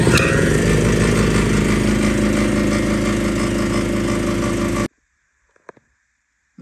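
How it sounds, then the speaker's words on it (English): An air compressor motor runs loud and steady with a broad engine-like drone for about five seconds, then cuts off abruptly into near silence broken by a few faint clicks. "the contactor will close, and then compressor will turn back on"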